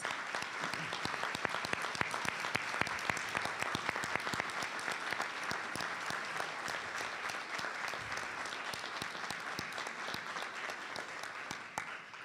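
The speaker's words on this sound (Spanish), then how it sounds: "Voy a pedir un aplauso fuerte para ellos y para ellas" Audience applause at an Afro-Uruguayan collective's political gathering, a steady, fairly quiet wash of many hands clapping that keeps an even pace for the whole span with faint crowd voices.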